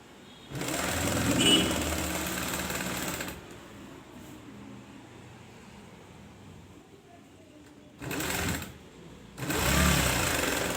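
Home sewing machine stitching the hem of a veshti, a fast rattling run of stitches, a pause, then two shorter bursts of stitching, close and clear.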